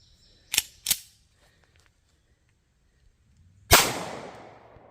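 A .40 S&W Shield pistol firing 180 grain Winchester defensive rounds: two sharp shots close together, a pause, then a third louder report with a lingering outdoor decay, no talking.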